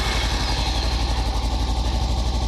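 A Kawasaki Versys X 300 motorcycle engine idles steadily with a low, even throb that pulses regularly throughout, fairly close and loud.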